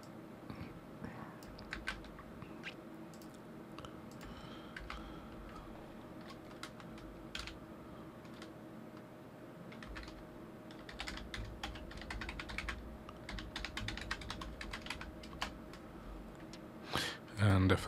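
Computer keyboard typing during a password entry, a scattered run of light key clicks over a soft background hum, growing busier toward the end.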